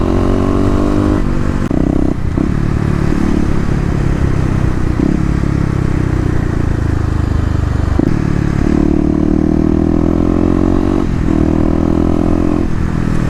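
Kawasaki KLX250 motorcycle engine on the road, loud and close throughout, holding a steady drone with rises and falls in pitch as the throttle opens and eases off, no talk.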